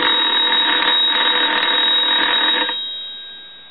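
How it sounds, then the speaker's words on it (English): A Pottery Barn Grand Phone telephone bell rings continuously with a loud, buzzing electric trill, then cuts off and leaves a faint fading hum. "we're going to go ahead and ring this telephone and let that go a few times"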